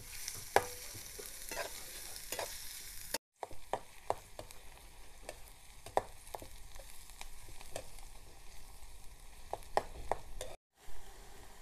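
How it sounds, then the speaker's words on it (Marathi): Onion sautéing in oil in a pan makes a soft, low sizzle broken by frequent scraping clicks of a spoon stirring, with two brief drops to near silence. "तर आपला कांदा मस्तपैकी आता तेलात परतून झाला आहे."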